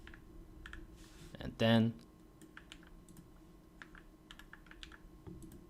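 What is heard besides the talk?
typing code on a computer keyboard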